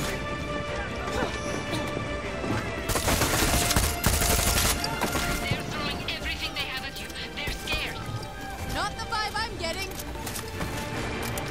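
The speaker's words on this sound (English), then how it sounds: "They are shooting me" Rapid gunfire aimed at the player in the Far Cry 6 video game, dense bursts and repeated shots cracking loudly over a chaotic mix of game sounds, with voices talking throughout.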